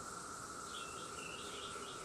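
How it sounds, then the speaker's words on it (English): A cicada, an invertebrate insect, gives a steady, continuous buzzing drone that holds at an even level with a bright high-pitched band throughout, heard alone with no talking. "This is a cicada, and it's an invertebrate."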